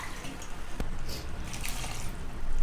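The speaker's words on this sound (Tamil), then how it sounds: "இன்னும் கொஞ்சம் தண்ணி ஆட் பண்ணிடலாம்" Water is added to a mutton curry in a cooking pot, a soft continuous splashing and trickling close by, with one sharp clink early on.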